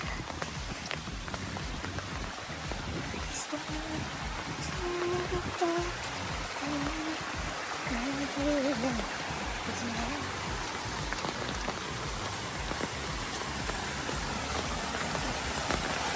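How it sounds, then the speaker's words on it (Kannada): Steady rushing water from a small waterfall pouring down a bank in a garden, with rain pattering all around, a constant broadband wash; a voice murmurs faintly underneath. "ಇಲ್ಲೇ ಮೇಲ್ಗಡೆ ಧರೆಯಿಂದ ನೀರು ಬೀಳುತ್ತೆ"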